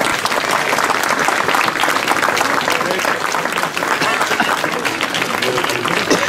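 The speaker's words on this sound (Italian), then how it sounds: "Un applauso." Applause from a crowd at an outdoor plaque unveiling marking the centenary of Norman Douglas's Old Calabria in Acri, a steady dense clapping that runs throughout at close range, with some voices mixed in.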